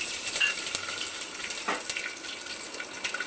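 Cumin, mustard seeds, dried chillies and garlic fry in hot oil in a pot, giving a steady crackling sizzle with scattered sharp pops, close and fairly loud with no talking.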